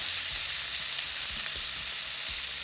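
Beef pieces for beef stroganoff frying in a hot pan, a steady loud sizzle throughout with soft bumps from the meat being spread around.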